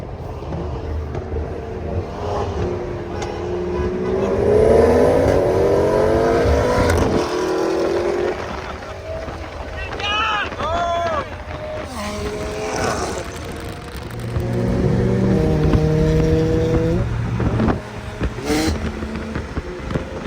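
A BMW M340i pulls hard at night in a roll race against a Supra, the engine climbing through revs and shifting in rising sweeps, with a second car droning alongside and voices calling out briefly.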